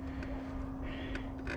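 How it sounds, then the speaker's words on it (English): Crow cawing outdoors at a mountain bike park, a few short harsh calls at moderate distance over a steady background hum. "Look, the bird's laughing at you."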